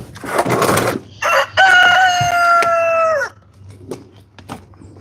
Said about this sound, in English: What's up, Rooster?